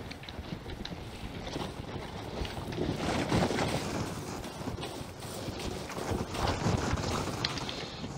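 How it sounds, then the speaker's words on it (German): Wooden creaking of trees swaying in the wind in the survival game The Forest, a steady low rustling bed with irregular groans and creaks rising around the middle and again near the end, with no voices. "Die Bäume knarzen im Wind."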